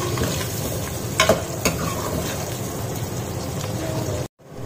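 Onions fry lightly in a pan for a ridge gourd curry, giving a moderate continuous sizzle with a couple of sharp stirring scrapes before the sound cuts off abruptly near the end.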